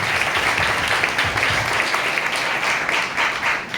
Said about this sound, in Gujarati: તાળીઓ પાડી ઈશ્વરને મહિમા આપીએ.